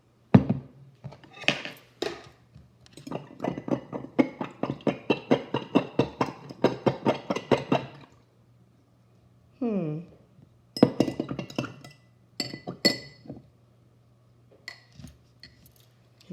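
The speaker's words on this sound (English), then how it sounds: "Let's see how well it mixes when we stir it up." A spoon stirs a liquid mixture in a glass of water, giving a fast run of light clinking taps against the glass, then a few scattered clinks after a pause, close and quiet.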